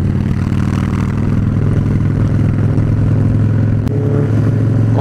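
A Harley-Davidson Dyna Street Bob motorcycle engine rumbles steadily on a test ride, a loud, close, continuous low throb with a brief clatter near the end.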